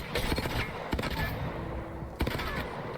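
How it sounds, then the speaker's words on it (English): Hemlock burst-fire rifle in Apex Legends, sounding as sharp clustered gunshots in a few quick bursts separated by short gaps, loud and close. "The Hemlock is a burst fire weapon, and it does come with an alternate firing mode."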